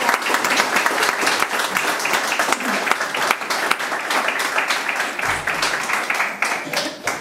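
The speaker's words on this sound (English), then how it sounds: "A round of applause" Wedding guests at a ceremony break into a sustained round of applause, dense clapping from many hands filling the room steadily and loudly for several seconds.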